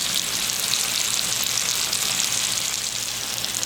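Hamburger steaks fry in a pan with a steady, loud, close hiss and crackle of sizzling fat that holds even throughout, with no voices.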